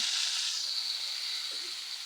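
Water poured onto frying spice paste for chicken curry bursts into a loud hissing sizzle that slowly settles into a steadier, softer hiss, close up with no talk.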